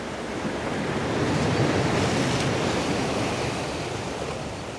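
Atlantic Ocean waves at the Palm Beach Inlet roar in a steady, loud wash of surf with wind buffeting the microphone and no voices.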